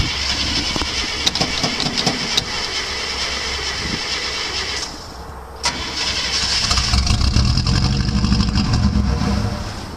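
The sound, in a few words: engine of 1968 International 1100B mud truck trying to run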